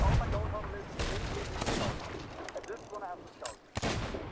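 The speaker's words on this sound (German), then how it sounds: "Okay, hört auf zu schießen, Boy." Gunfire in the pirate game Sea of Thieves: a cluster of loud shots and booms early on, then scattered reports that fade, with people talking over them.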